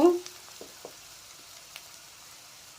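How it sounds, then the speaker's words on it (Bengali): Ground spices (chili powder, sugar, coriander, cumin) frying in a pan for a pointed gourd kofta curry: a loud sizzling burst at the start, then a faint hiss with a few light stirring taps, close by, no talking. "মশলাটা একটু কষিয়ে নেব"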